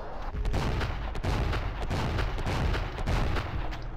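Rapid, dense gunfire from the Wii light-gun game House of the Dead Overkill at a zombie carnival, loud and continuous with repeated heavy shots and booms throughout.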